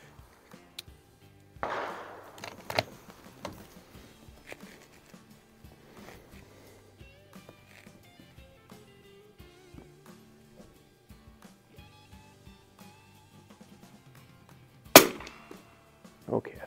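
A 1961 Winchester 52C rifle fires at a target, one sharp, loud crack near the end standing out from a quiet outdoor background with an earlier fainter pop and scattered small clicks.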